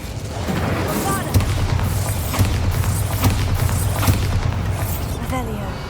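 Bombarda spell blasts in Hogwarts Legacy land as a series of sharp booming explosions at a steady pace over a continuous low rumble, with occasional whooshing sweeps between hits.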